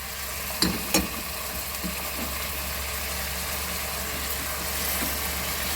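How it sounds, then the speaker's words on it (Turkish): Carrots and spinach roots sizzle in a frying pan, a steady close crackle with a couple of sharp clicks near the start, and a low background hum running underneath. "Bir iki dakika ıspanak köklerimi kavuracağım."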